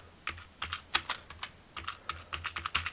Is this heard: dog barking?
no